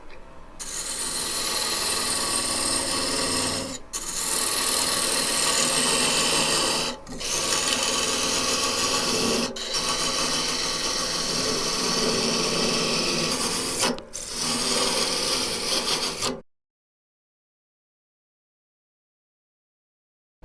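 Wood spinning on a lathe as a tenon is cut, a loud, continuous rasping cut broken by several short pauses, then stopping abruptly into silence.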